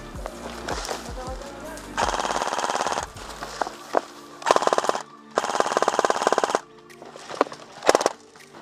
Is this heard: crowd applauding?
no